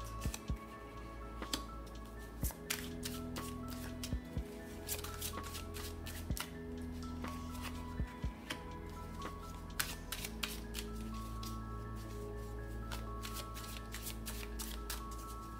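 Tarot cards are handled and shuffled by hand to pick three cards, giving soft papery riffles and scattered taps over a low steady background hum, with no talking.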